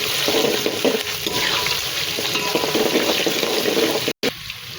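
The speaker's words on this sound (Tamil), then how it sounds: "போட்டு நல்லா சின்ன வெங்காயம் நல்லா செவக்க வதங்கட்டும்" Small shallots and garlic fry in a pan for Chettinad chicken gravy, a dense, steady sizzle close by, broken by one brief dropout near the end, with no talking.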